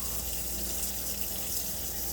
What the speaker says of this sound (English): we're gonna add our little water to it, and we're gonna wash it again